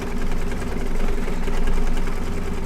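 A home embroidery machine stitches light shading on an appliqué reindeer ear for a festive quilt block, giving a steady, close mechanical whir and rapid needle rhythm that runs on without pause and with no talking.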